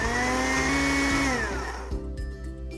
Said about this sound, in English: Eddie hears the whir of the blender when Mom makes yummy fruit drinks.